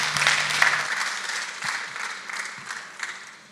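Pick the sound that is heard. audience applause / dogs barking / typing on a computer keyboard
audience applause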